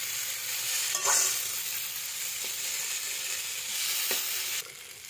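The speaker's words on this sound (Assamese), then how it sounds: "চব ফ্ৰাই হৈ আছে।" Chowmein stir-frying in a pan gives off a soft, steady sizzling hiss, broken by a few brief utensil clatters and one louder scrape near the start.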